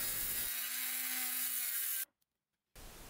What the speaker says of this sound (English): With that temporary in place, I can now cut the excess off.